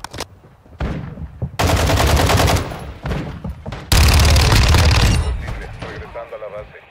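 Automatic gunfire in Call of Duty: Modern Warfare, loud rapid bursts separated by short gaps, with a brief quieter tail after the final volley.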